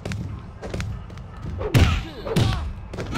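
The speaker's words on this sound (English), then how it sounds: "Oh, I kicked him through the table?" A heavy thud and crash from a wrestling video game as an opponent is kicked through a table, two loud impacts close together, with no talking.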